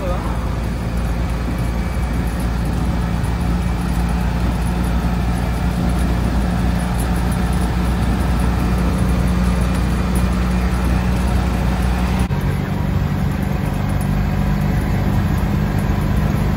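A 1974 Citroën Méhari cruising at 80 km/h, with a continuous droning engine and road rush mixed with wind noise, steady and fairly loud throughout with a slight change in tone partway through.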